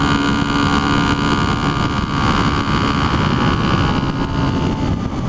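A 1976 Honda CB125S motorcycle engine drones steadily while riding, its buzzing hum close and loud under heavy rushing wind noise, with no voices.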